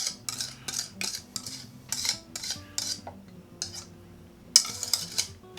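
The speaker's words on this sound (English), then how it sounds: "And you just whisk it in. Whisk it right in." A whisk beating a butterbeer mixture in a pot, a quick run of bright metallic clicks and scrapes in repeated bursts, ending with a sharper clink.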